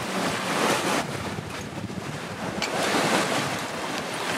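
Strong gusting wind roars across the microphone aboard a sailboat in rough Bahamas waters, with waves washing and surging beneath, loud and continuous with swelling gusts and no voices.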